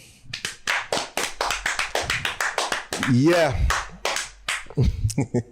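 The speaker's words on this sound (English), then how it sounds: "Clap it up." Two podcast hosts clap their hands together in a quick run of sharp, close claps. Their talk and a brief laugh break in midway before a final burst of clapping.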